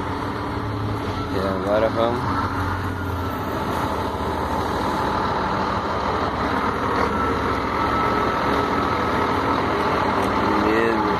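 A Scania 114 truck's diesel engine rumbles steadily as it pulls away in reverse gear, a loud low drone throughout with brief speech over it.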